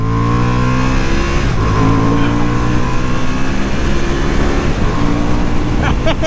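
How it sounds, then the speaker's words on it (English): Honda CB750 Hornet 2023 motorcycle with upgrades accelerating through its gears, a loud, close engine note that rises in pitch, briefly drops at each shift and climbs again. "Really fun motorcycle, this Honda."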